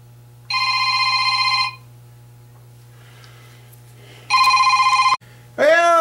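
A telephone rings in a workshop where an engine intake is being changed, sounding two bright electronic ring bursts separated by a pause over a steady low hum, followed by a rising chirp.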